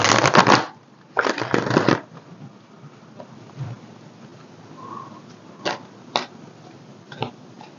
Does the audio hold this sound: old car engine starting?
no